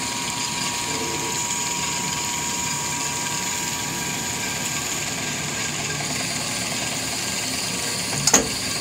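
Steady mechanical whine and hum of a Hardinge metal lathe turning titanium continuously, with a brief sharp metallic tick near the end.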